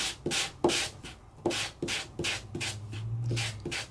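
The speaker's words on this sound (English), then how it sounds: "the sandable paper and it's just going to hit the high points and kind of define him a little bit" Sandable paper being sanded over a die-cut piece, giving a series of short dry rubbing strokes in an uneven rhythm, close and fairly clear with no talking.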